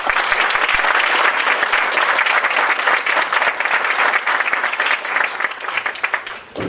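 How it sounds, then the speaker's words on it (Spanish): A hall audience gives loud, sustained applause welcoming Dr. Gloria Villegas Moreno to a school lecture, dense steady clapping near and constant throughout, tapering slightly at the end. "demos una cálida bienvenida con un fuerte aplauso a la doctora Gloria Villegas Moreno"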